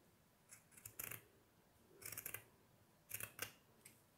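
Scissors snip through burlap in quiet, close bursts of several quick crunching cuts, grouped in three clusters with brief pauses between them.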